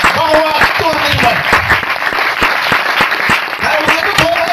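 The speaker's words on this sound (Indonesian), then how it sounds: "Tepuk tangan, tepuk tangan untuk Tuhan Yesus" Church congregation applauding, a dense crowd of clapping hands with rapid, even claps over a loud background of voices.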